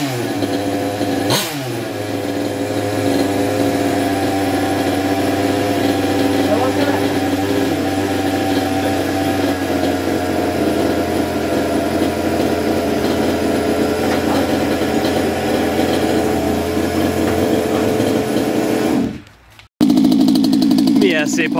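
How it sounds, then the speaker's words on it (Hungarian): A small high-pitched RC car engine runs steadily with a buzzing, even drone, briefly cutting out near the end before picking up again. "Milyen szép hangja van az új motornak."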